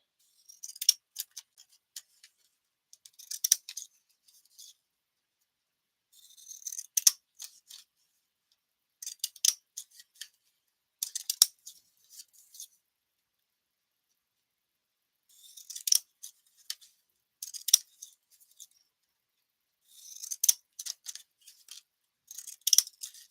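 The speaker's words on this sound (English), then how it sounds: "I have my fancy scissors. We're going to do some decorative cutting." Fancy decorative-edge scissors snip through cardstock while a stamped card is being made, giving crisp, close cuts in quick clusters of several snips separated by short pauses.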